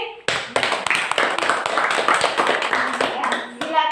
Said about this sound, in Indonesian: Tepuk tangan dulu untuk Efrin.